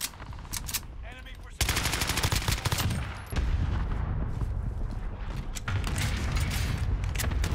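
Rapid bursts of gunfire from a QBZ rifle in the Warzone video game, Fortune's Keep map, loud and dense automatic fire that starts after a brief lull and continues in sustained strings.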